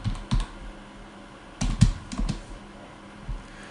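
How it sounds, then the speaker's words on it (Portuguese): An SQL command being typed on a computer keyboard: three short clusters of close, fairly loud key taps separated by quiet gaps, with no talking. "eu estou digitando aqui o comando"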